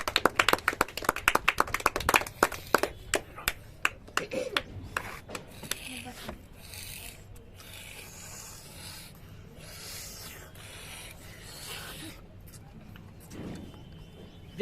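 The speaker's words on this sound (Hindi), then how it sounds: "सब एक दूसरे के लिए तालियां बजा दो एक बार।" A small group of contestants claps in a quick burst of sharp, close handclaps that thins out and fades after a few seconds, followed by quieter rustling and faint talk.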